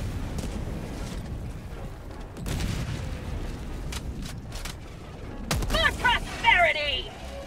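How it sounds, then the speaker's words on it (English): Grenade and orbital strike explosions in the video game Helldivers 2, several muffled booms and bursts spread across the clip, with mechanical clatter and a flurry of sharp crackling effects near the end. "Throwing grenade."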